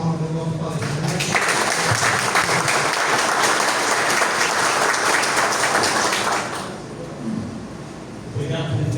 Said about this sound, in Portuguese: Uma salva de palmas ao nosso palestrante.